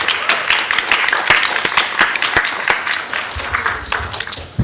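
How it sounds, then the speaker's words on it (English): An audience at a student pitch day breaks into sustained applause, a dense wash of many hands clapping close and loud, easing slightly near the end. "let's give them a big round of applause to all that participated today"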